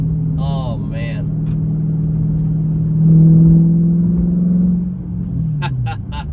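A Dodge Challenger SRT8 V8 accelerates through slow gear shifts on an early-morning drive, its loud, close engine drone rising in pitch, then dropping at each shift, heard from inside the car.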